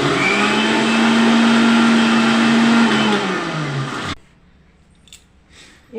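A mixer grinder blends coriander leaves for chutney with a loud, steady whirring roar for about four seconds, then cuts off abruptly into near quiet.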